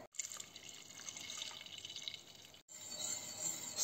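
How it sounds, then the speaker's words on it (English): Milk poured into a flour-and-butter roux for a béchamel sauce for cabbage and ricotta lasagna, a steady close liquid pour and trickle in two stretches split by a brief pause, with no talk. "Add the milk."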